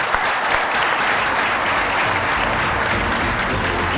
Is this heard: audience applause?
yes